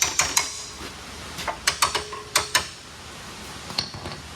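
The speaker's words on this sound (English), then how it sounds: "Here's trusty old claw hammer." A steel claw hammer strikes and clinks against metal parts of a Jeep Honcho truck during an engine swap, giving about a dozen sharp, bright metallic taps in irregular bursts at close range with no talk.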